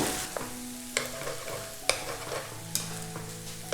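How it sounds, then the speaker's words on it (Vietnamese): Rice vermicelli stir-fried in a hot pan over a wood fire: steady sizzling with repeated scraping clacks of a utensil against the pan, close up. "Rồi mình cho bún vào đây mình xào luôn."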